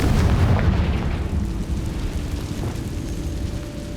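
Confringo and Bombarda spells exploding in Hogwarts Legacy on Nintendo Switch, a loud deep boom that opens the stretch and rolls off into a long rumbling decay.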